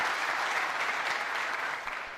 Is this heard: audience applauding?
yes